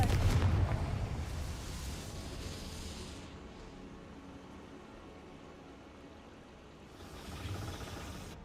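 A Confringo fire spell blasts in the Hogwarts Legacy video game: a loud, booming burst at the start that rolls off into a long rumbling decay, with a second swell near the end.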